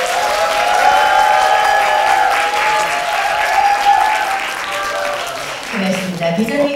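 An auditorium audience at a Daejeon University lecture event breaks into sustained applause and cheering, a dense wash of clapping that holds steady for several seconds before thinning out as a voice begins to speak near the end.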